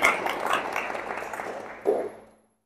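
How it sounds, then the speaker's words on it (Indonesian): Students in a classroom clap briefly together, a short burst of applause that swells again near the end before stopping abruptly. "Oke, beri tepuk tangan sekali lagi untuk kalian."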